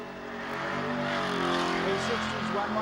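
A burnout car's engine revs hard at Summernats, a loud sustained roar with rising harmonic whine close by, backed by crowd noise and faint talk.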